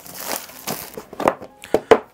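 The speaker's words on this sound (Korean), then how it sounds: "자, 한번 비닐을 뜯어볼까요?" Plastic wrap is torn and peeled off an Insta360 ONE X2 camera box, giving a few sharp crinkling rips and crackles spaced irregularly and close by, with quiet gaps between them.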